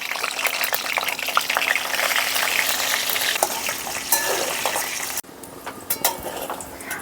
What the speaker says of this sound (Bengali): তেলটা একটু গরম হতেই আলুগুলো দিয়ে দিচ্ছি।